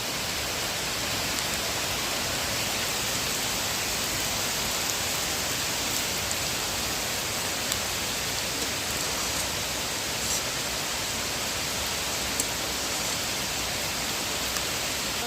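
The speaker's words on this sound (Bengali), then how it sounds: "দেখো অন্ধকার হয়ে গেছে আর প্রচুর বৃষ্টি হচ্ছে" Heavy rain pours down steadily, a dense, unbroken hiss with no pauses.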